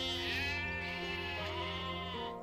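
A sheep bleating in rural New Zealand, one long wavering bleat that breaks into a second quavering call, close and clear against a quiet background.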